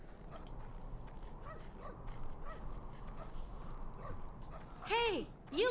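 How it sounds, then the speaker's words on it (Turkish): A dog barks and yips in the video game Syberia 2, a few short barks rising near the end over continuous background sound and a speaking voice. "Hey Yuki, seni yaramaz köpekçik"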